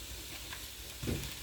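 Wild mushrooms cooking in butter in a pan, a soft steady sizzle with a brief louder stir or bubble toward the end, faint and close.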